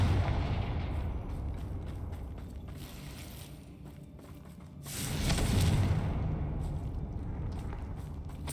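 A Confringo blasting spell fires in Hogwarts Legacy, setting off a booming game explosion that swells with a rushing burst partway through and then rumbles and fades amid the game's ambient sound.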